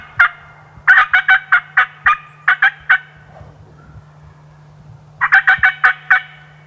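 Wild turkeys in New York gobble in rapid rolling bursts, one long series followed by a pause and then another, loud and fairly close against a quiet background.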